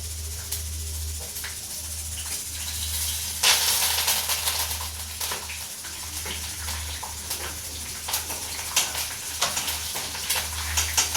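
Peanuts and green chillies frying in oil in a pan, a steady close sizzle with crackles and sharper spits that flare up now and then, heard alone without talk.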